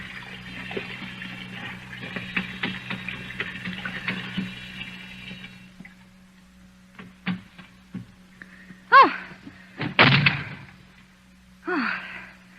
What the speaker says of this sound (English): There's the sink. Some hot water.